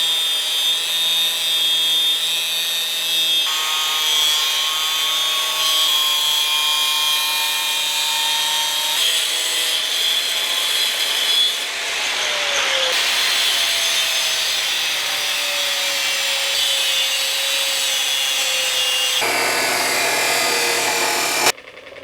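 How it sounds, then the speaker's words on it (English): Welding under a hood in a home workshop makes a steady, loud, continuous crackling hiss with a constant high whine that runs unbroken for the whole stretch, shifting in tone now and then, with no talking. "Welding."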